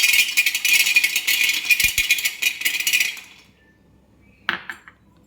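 Peanuts and sesame seeds dry-fry in a pan, rattling and scraping loudly against the metal for about three seconds, then fading to near silence before one brief clink near the end.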